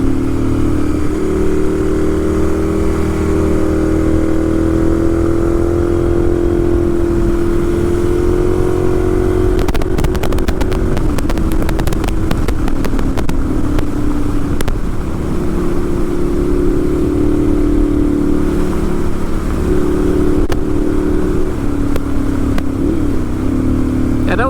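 A 2012 Ducati 796 Monster motorcycle being ridden, its engine droning loud and steady with rises and falls in pitch as it accelerates, and wind buffeting through the middle.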